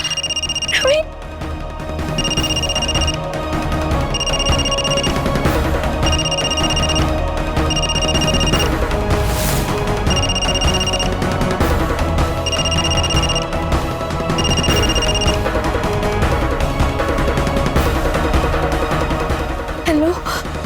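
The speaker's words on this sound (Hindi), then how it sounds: "नवीन का फोन है।" A telephone rings in evenly spaced bursts, repeating about every two and a half seconds over a busy background of voices and movement.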